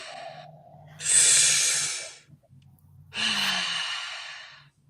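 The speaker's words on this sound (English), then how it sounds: "Everyone do the 2 breaths with us." A group takes two long, deep breaths together, each a loud, airy rush lasting over a second, separated by a brief quiet gap over a low background hum.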